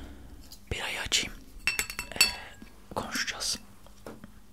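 A bottle of Beck's beer is opened up close in a quiet setting, with light glassy clinks and a couple of brief bursts of opening sounds, and soft whispering in between.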